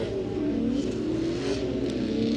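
Drift cars rev hard at a Formula Drift Texas Pro 2 competition, a sustained loud engine roar with rising and falling pitch as the cars run through the course.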